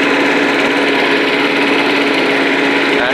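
An old, heavy Rover Turbothrust lawn mower's engine runs loud and close, a steady high-pitched buzzing drone held throughout.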